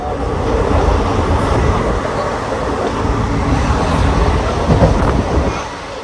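A crowded passenger train rolling along the rails on a journey toward Kozhikode, a loud, continuous rumble and clatter of wheels and carriages heard close from inside, with no talking.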